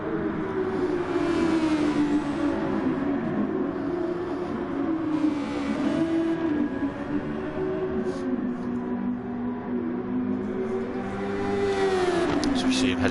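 Super Formula single-seater out on track at the Nurburgring GP circuit, a steady engine drone holding pitch with slight rises and dips, continuous and moderately close, with no speech.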